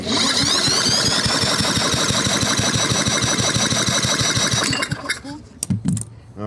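A vintage Craftsman lawn mower's Tecumseh engine is spun over by the starter, giving a loud, steady, rapid chugging with no catch. The cranking stops near the end and a few brief clunks and handling noises follow.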